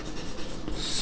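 Close, continuous scratching of a hand writing out a mathematical statement, a steady rubbing stroke with no talk.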